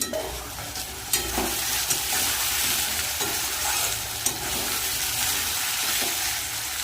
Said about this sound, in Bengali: ভালো করে নাড়িয়ে নেব আলু পেঁয়াজটা ভালো করে ভেজে ভেজে